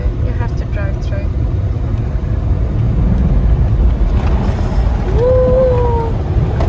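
An outback Australia 4WD pushes through deep floodwater and mud near Cameron Corner, producing a loud, continuous low engine rumble with water churning, while people talk inside the vehicle.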